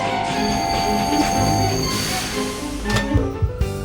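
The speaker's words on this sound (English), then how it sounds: "Ambulance train zoomed down the tracks." A cartoon ambulance train speeding down railway tracks, a continuous loud rumbling train sound with squealing wheel tones and clattering near the end.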